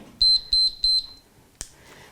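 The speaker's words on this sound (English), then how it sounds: "Stop this from beeping away." A workout timer clock sounds three pairs of sharp, loud electronic beeps in a steady rhythm, then falls silent before a single click-like knock, with no voices.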